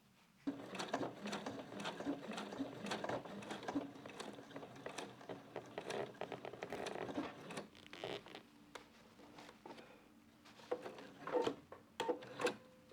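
Sewing machine stitching trousers, with intermittent runs of fast mechanical whirring and clicking mixed with fabric handling and rustling, fairly quiet and close, without speech.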